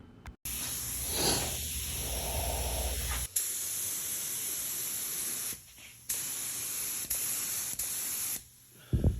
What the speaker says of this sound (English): So here's my gun set up, the filter, air regulator, and here we go, spraying.